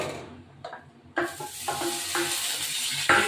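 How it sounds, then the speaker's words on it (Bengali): Paneer frying in a pan: soft sizzling with clinks and scrapes of a utensil stirring against the pan, arriving in short bursts after a quiet start, close and moderately loud. "পনিরটা এখন ভাজবো"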